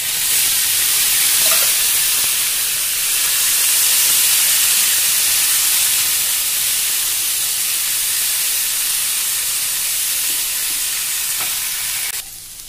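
Cooked drumstick pods land in a hot pan of spiced oil with red chilli powder, setting off a loud, steady sizzle and hiss that holds evenly throughout before cutting off near the end.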